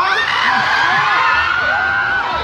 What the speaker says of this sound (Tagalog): Narinig natin ang hiyawan ng ating mga ka-asenso.